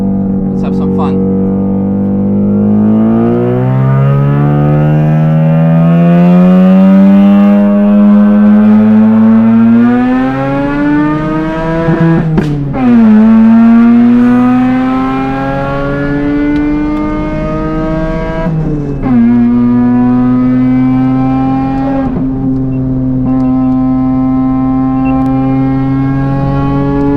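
Bridgeport-ported 13B rotary engine in a Mazda RX-8 at the Nürburgring, revving hard up to 10,500 RPM with a loud, rising, siren-like howl that peaks, dips briefly and climbs again, sustained and close throughout.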